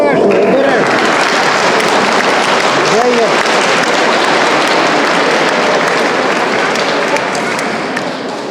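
Applause from a concert audience at a children's music school's annual report concert, dense and steady clapping filling the whole stretch at close range, with a few voices briefly rising through it.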